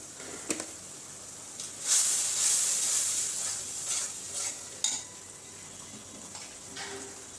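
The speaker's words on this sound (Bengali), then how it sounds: "তো মশলাটা কষানো হোক।" Spices being stirred and sautéed in a pan for a duck meat curry, with soft sizzling, scraping stirs and a couple of brief hissing bursts, fairly quiet and close.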